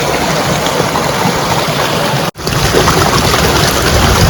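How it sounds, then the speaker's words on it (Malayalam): Water splashes steadily into a garden water feature, a loud, continuous rushing and pattering that fills the whole stretch with only a split-second dropout midway. "ആ നാച്ചുറൽ ആയിട്ടുള്ള ആ ഒരു സൗണ്ട് കണ്ടോ വെള്ളം വീഴുന്ന"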